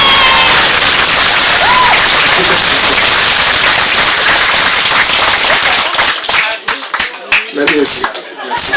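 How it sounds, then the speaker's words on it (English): Concert audience breaking into loud, sustained applause and cheering, dense clapping filling most of the stretch before thinning into scattered claps and a few voices near the end. "je pense qu'on peut les applaudir"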